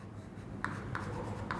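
Chalk writing on a board during a mathematics lecture on Bernoulli differential equations, heard as three quiet, crisp taps or short strokes spaced apart against a soft room hum.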